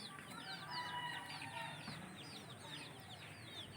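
Local chickens on a small farm in Assam, clucking and calling steadily alongside chicks, with overlapping bird chatter close by and no talking.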